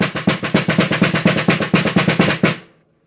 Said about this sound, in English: So a drum roll sounds like this.